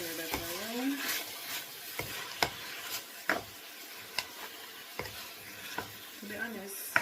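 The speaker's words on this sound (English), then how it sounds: "Stir that around." Jamaican curry chicken frying and sizzling in a frying pan, with a spoon stirring and scraping through it in a series of sharp knocks against the pan over a steady sizzle, close and fairly loud; a voice speaks briefly now and then.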